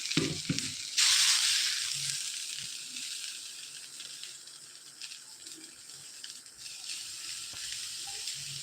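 Dosa batter hits a hot pan with a sudden loud sizzle that fades to a steady, softer hiss, with faint clinks and no talking.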